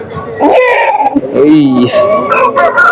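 A rooster at a busy Saturday sheep, goat and poultry market in Baireddipalli gives loud close crowing and clucking calls, with people talking around it.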